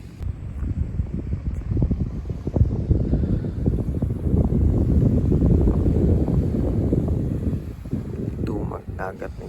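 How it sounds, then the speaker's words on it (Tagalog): Strong wind buffets a tent at a seaside campsite in Japan, a loud continuous rumbling roar with gusts rising and falling, with someone talking over it. "Tapos ang lakas ng hangin."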